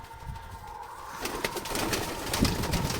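Young pigeons in a new loft coo softly and flutter, with bursts of wing flapping and shuffling growing busier partway through, close and moderately loud.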